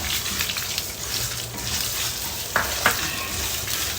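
Edible gum (gond) frying in hot ghee in a kadhai, a steady soft sizzle throughout with two brief crackling pops near the end, no voices.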